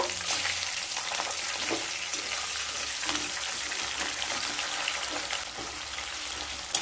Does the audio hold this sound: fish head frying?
yes